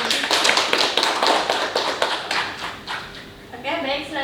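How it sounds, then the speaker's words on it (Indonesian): An audience claps at a student talk show featuring candidates for extracurricular leadership. Steady, close, rhythmic clapping fills the moment and gradually softens, and a voice starts speaking near the end. "Beri tepuk tangan untuk bagian ini."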